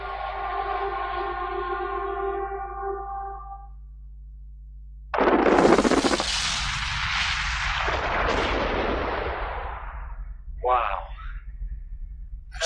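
A huge mining blast set off with 180,000 tons of explosives at a gold mine, arriving after a low droning tone as a sudden deep roar that rumbles on for several seconds, then a shorter later burst.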